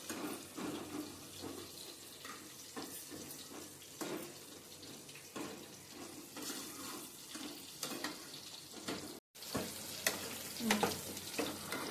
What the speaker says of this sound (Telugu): ములక్కాడలు ఈ విధంగా ఫ్రై అయినంత వరకు సరిపోతాయి